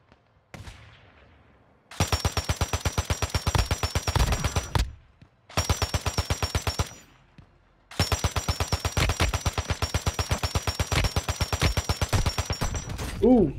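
Automatic rifle fire in Arena Breakout comes in three long, rapid bursts separated by short silences, loud and close, with a faint shot or two before the first burst.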